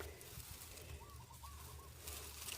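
Soft, repeated cooing of a dove or pigeon in the distance, a low gentle call over steady background hum.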